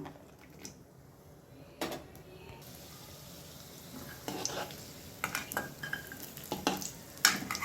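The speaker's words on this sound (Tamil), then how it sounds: "நம்ம எடுத்து வச்சுருக்க முந்திரி திராட்சையை வறுத்து எடுத்துக்கலாம்." Cashews and raisins roast in hot ghee, a soft sizzle under intermittent spoon scrapes and clinks against the pan that grow busier toward the end.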